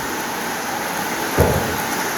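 Steady rain hisses evenly in the open air at Taal Lake, with a short, dull low thump midway through and no voices.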